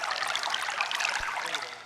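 Water trickles and splashes in a steady, bright stream, close and continuous, with one low thump partway through, at an outdoor village stage play in Aruppukottai.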